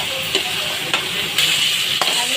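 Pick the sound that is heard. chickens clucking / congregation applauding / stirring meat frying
stirring meat frying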